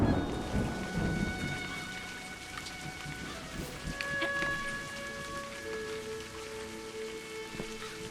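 A thunderstorm with steady heavy rain pattering throughout, broken by rolling rumbles of thunder, heard alone without talk against an ambient musical tone.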